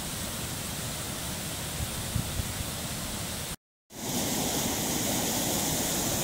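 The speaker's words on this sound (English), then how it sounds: "Here is the river." A flowing river rushes steadily and loudly, a broad constant wash of water noise close by that drops out briefly midway before resuming just as strong.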